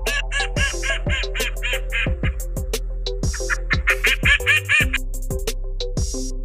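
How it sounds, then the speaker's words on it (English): A duck quacks in a string of short, repeated nasal calls over a steady, bouncy backing beat of children's music. "Duck."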